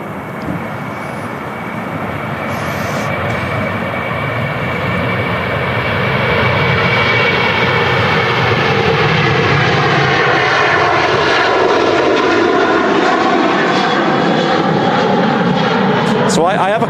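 An Airbus A350 airliner rumbles loudly and steadily at Manchester Airport, its engines holding a broad, continuous roar that swells slightly midway, with voices talking over the noise.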